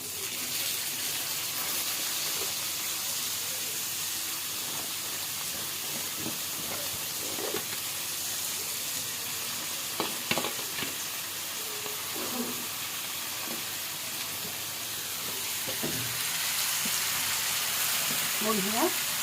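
Shredded cabbage goes into a hot pan with green beans and is stir-fried for fried rice, giving a steady close sizzle with occasional scraping stirs and no talking.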